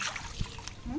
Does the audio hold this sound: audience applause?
no